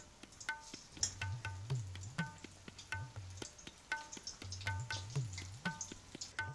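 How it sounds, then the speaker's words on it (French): Spinach and potato fritters frying in hot oil, with a soft continuous sizzle broken by repeated sharp taps and clinks of a utensil, close by and fairly quiet. "Là, regarde ça, il fait frire comme ça."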